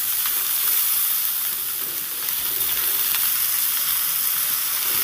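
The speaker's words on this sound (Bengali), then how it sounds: "এবার দিয়ে দিচ্ছি দুটো টমেটো কোচানো টমেটোটা দিয়ে এবার একটু নেড়ে দিলাম" Chopped tomatoes sizzle loudly in a hot pan while being stirred for a homestyle chicken stew, a constant close frying hiss with soft scraping movements throughout.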